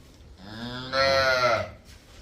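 A buffalo gives a single long, deep moo close by, rising in loudness midway before trailing off.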